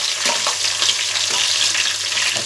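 Onion, green chili, curry leaves and ginger-garlic sauté in a pan with a loud, dense, continuous sizzle and hiss up close, along with faint stirring. No one talks.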